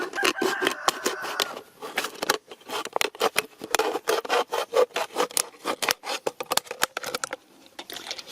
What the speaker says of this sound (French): la bouteille, je vais la préparer en enlevant le fond